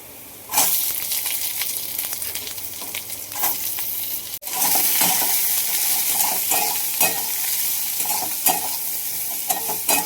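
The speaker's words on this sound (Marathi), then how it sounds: "पहिल्यांदा कांदा भाजून घ्यायचा चांगला." Onions roast in a hot pan with a constant loud sizzle, broken by repeated scraping stirs of a spoon against the pan; a short pause near the middle, then frying and stirring resume.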